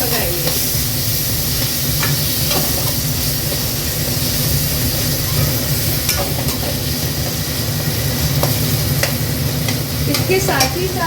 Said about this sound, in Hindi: ताकि वो जो धनिया और हल्दी है वो भुन जाए और टमाटर डाल देंगे। इसको हाई फ्लेम पे पकाएंगे।